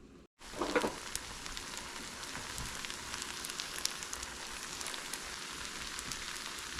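Green beans and peppers cooking in a pan, a soft, steady hiss and crackle of sizzling that starts after a brief silence and continues evenly throughout, close but fairly quiet, with no talking.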